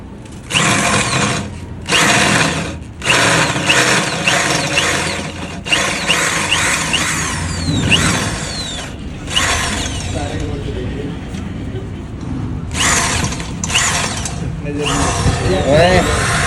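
A power drill runs loud and close in short bursts with brief pauses, in a workshop where a tyre and alloy wheel are being swapped, with people talking over it.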